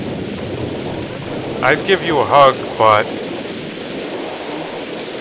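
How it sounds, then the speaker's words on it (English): Steady rain and a low rumbling storm from the game Mothered fill the background throughout, with a person speaking briefly over it in the middle. "Looks like this storm is picking up."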